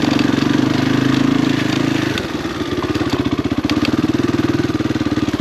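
Honda XR dirt bike engine on a steep uphill dirt trail in Cambodia, running a loud, close, steady putter that dips and then settles into a rapid even thump as the bike climbs.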